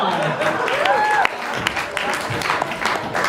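An audience applauds at a talk on building a better human, a dense wash of claps over a continuous crowd murmur, with a brief whistle-like tone and some talking mixed in.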